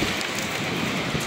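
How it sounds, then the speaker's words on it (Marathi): Hail mixed with heavy rain pelts down in a dense, constant hiss and patter, with strong wind and no pauses across the short burst. "गारांचा पाऊस आलेला आहे पहिला."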